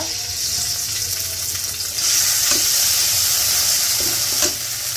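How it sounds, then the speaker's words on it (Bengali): Ginger-garlic paste sizzles in hot oil for Bangladeshi egg korma. A constant hissing fry grows louder about halfway through, with a few faint stirring clicks, close and without talk. "দিয়ে দিচ্ছি আদা চায়ের চামচ পরিমাণ আদা রসুন বাটা"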